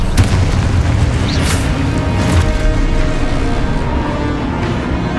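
A Confringo spell explosion in Hogwarts Legacy gameplay booms loudly over a dense, continuous roar of game combat noise, with a sharp burst near the start and sustained rumbling throughout.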